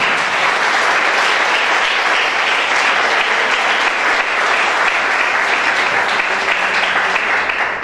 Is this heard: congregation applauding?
yes